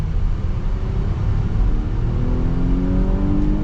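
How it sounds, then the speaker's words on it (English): A 2022 Nissan Pathfinder Platinum pulls hard under acceleration, a continuous engine drone rising steadily in pitch with road rumble, heard from inside the cabin for a few seconds. "We're gonna get our acceleration here with the Pathfinder."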